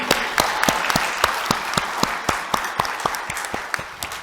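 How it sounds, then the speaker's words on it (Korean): Audience at a Korean defense and industry forum applauding in a large hall, a steady crowd clapping with a few sharper, louder claps standing out rhythmically over the wash, continuous from start to finish. "박수 좀 주세요."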